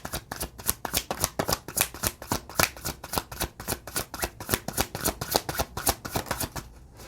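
Tarot cards being shuffled for a reading, a quick run of crisp riffling flutters in a steady rhythm, close and clear, with no talking.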